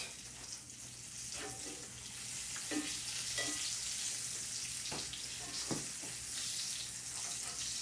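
Quiet, steady sizzle of food frying in a hot cast iron pan, with occasional soft scraping and stirring sounds over the hiss.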